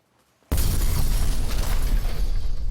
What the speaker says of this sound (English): But first, we need an explosion.